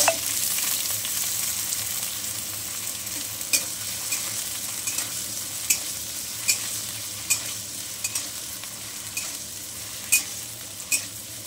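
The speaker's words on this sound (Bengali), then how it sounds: "বেশি আলু দিই, অল্প করে এটাকে বেশ ভেজে দেবো।" Radish greens and potatoes frying and being stirred in a pan with dry red chilli and nigella seeds, a steady close sizzle broken by repeated clicks of a spatula scraping the pan.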